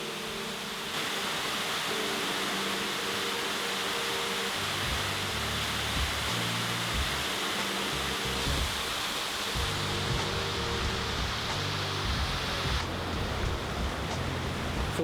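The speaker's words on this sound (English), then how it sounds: "Look at this waterfall." Waterfall on the Shades of Death Trail in Hickory Run State Park, a steady broadband roar of falling water that fills the whole clip at an even, loud level with no voices.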